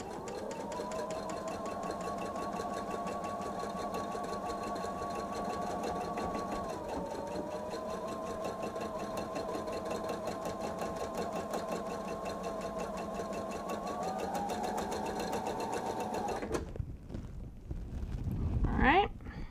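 A sewing machine runs a long continuous seam on a bench pillow, a steady close whirring hum with rapid needle ticking. It stops near the end and gives way to handling noises and a brief rustle.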